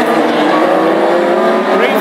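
Classic hot rod race cars at Hednesford roar away together at the start of a heat, a dense continuous engine drone close by, loud and unbroken, with a commentator talking over it.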